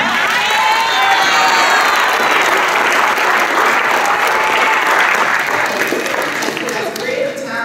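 Loud, sustained applause from a crowd at a school athletic awards ceremony, with cheering and shouting voices mixed into the steady clapping throughout.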